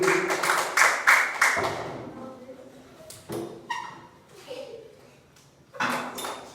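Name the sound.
classroom applauding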